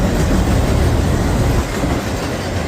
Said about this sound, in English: a Canadian Pacific with a CP lead locomotive with a Kansas City Southern second locomotive